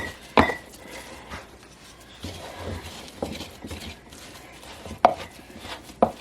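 A utensil cuts down into gluten flour dough in a bowl, giving a few sharp, close knocks and scrapes between quieter handling sounds, with no talk.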